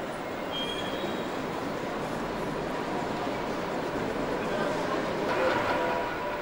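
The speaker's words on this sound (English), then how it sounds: "This Class 315 is in a plain white paint scheme" A Class 315 electric multiple unit in plain white paint at London's Liverpool Street station gives a steady rumble of wheels and motors under the station roof, with a faint squeal, while a voice talks over it.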